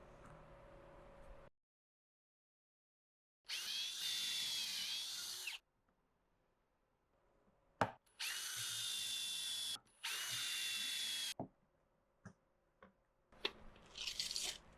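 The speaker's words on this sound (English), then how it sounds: "I'm going to drill pocket holes on the sides and going up" A power drill bores pocket holes into wood for a simple two-tier bookshelf, with three sustained high-pitched whining bursts of about two seconds each, close and loud, separated by quieter handling clatter and knocks.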